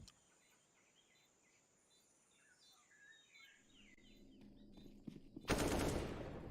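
Pistol gunfire crackles in a Counter-Strike match on the Ancient map at a professional tournament, faint at first, then a loud burst of shots near the end over quiet ambient sound.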